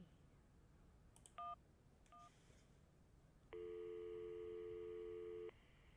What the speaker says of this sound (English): we have a phone, so we'll ring him